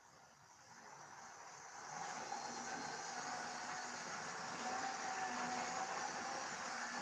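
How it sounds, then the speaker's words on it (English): A model Class 90 locomotive hauling nine coaches runs on a layout, a steady mechanical hum and rolling rumble that swells after a couple of seconds and holds, with faint clicks over the track. "now we can actually run this train because we actually have all 9 coaches on"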